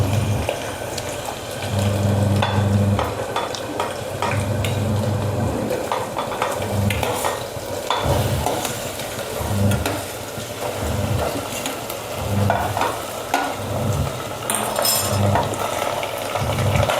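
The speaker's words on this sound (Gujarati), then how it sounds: "હવે આપણે અહીંયા રાઈ જીરાનું વઘાર કરી દઈશું।" Mustard seeds and cumin sizzling in hot oil as tempering for masala rice, a continuous crackling fry with bursts of popping and stirring, a low humming pulse underneath, and no voices.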